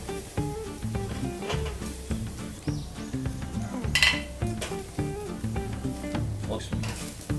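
Marinated beef short ribs sizzle steadily in a frying pan while being turned, with frequent metallic clinks and scrapes of utensils against the pan and a brief louder hiss partway through.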